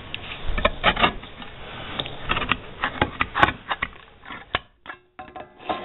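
Gloved hands cutting a hole in the outer metal can of a homemade woodgas stove, giving a run of irregular sharp clicks and crunchy snips up close, with a short pause near the end.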